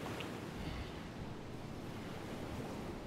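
Water washes against a wooden pier in the video game DayZ, a steady broadband rush of lapping waves mixed with soft wind, continuous and even with no speech.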